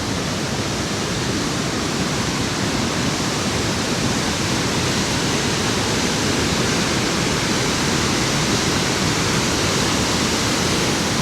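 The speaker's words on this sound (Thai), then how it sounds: "ตอนนี้ก็ยังได้ยินเสียงน้ำตกแห้งพอสมควร" Li Phi waterfall on the Mekong River in southern Laos, running low in a dry spell, still sends out a constant broad rushing roar, steady and unbroken throughout, with no voices over it.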